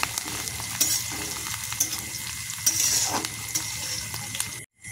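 Maggi pasta stirred and fried in a pan, heard as a continuous close sizzle with several scraping stirs at irregular intervals, ending in a brief silence.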